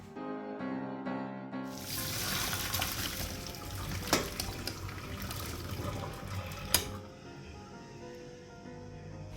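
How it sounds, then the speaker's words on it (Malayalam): Water pours and splashes steadily for several seconds as it is drained from boiled potatoes, with a couple of sharp clanks near the end, then fades to a quiet hiss. "വെള്ളം ഊറ്റി കളഞ്ഞിട്ട് നമ്മൾ അങ്ങോട്ട് അരിച്ചു വെക്കുക"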